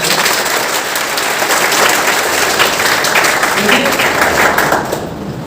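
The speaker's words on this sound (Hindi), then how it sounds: "उनका हार्दिक स्वागत तालियां बजाकर" Audience applause welcoming Dr. Aarti Singh Sikarwar as a guest at a success-story talk, a dense, steady wash of clapping filling the room for about five seconds before easing off slightly at the end.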